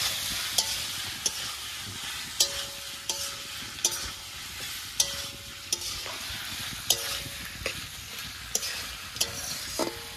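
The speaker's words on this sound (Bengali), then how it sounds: "পেঁয়াজগুলোকে এটার সাথে ভাজবো।" Onions sizzling in hot oil in a pan while a spatula stirs and scrapes them in a steady rhythm of sharp clicks, close and continuous, with no talking.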